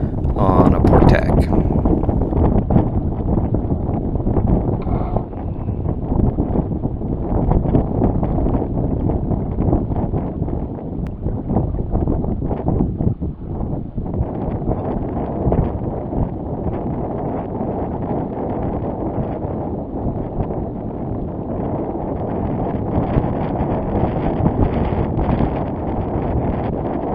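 Sailboat beating close hauled across a lake in gusty, variable wind, with steady broadband wind buffeting on the microphone and rushing water running continuously at a fairly constant level throughout.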